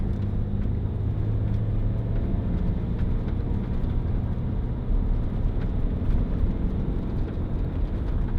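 Steady low road rumble and engine drone inside the cabin of a BMW X6 30d xDrive automatic while driving, continuous and fairly even with faint rattles of loose items, no talking.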